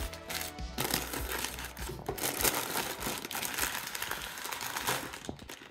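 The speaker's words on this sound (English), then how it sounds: "Let's open the box and start organizing the bags." Plastic bags of building bricks crinkle and rustle continuously as they are handled and sorted, close and fairly loud, with small clacks of bricks shifting inside.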